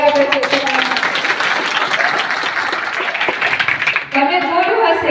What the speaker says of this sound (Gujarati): જોરદાર તાળી વગાડ્યા આપણે ચેતરભાઈ.